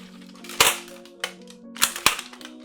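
Four sharp gunshots ring out in a video game, spaced irregularly over a few seconds against a steady low in-game hum, with no talking.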